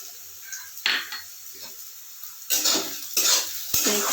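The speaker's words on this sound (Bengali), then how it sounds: "সাথে আমি দিয়ে দিচ্ছি কাঁচা লঙ্কা কুচিটা," Chopped green chilies are stir-fried in a pan for garlic fried rice: a soft sizzle with a few sharp scraping stirs and clinks of utensil on metal, growing louder and busier toward the end.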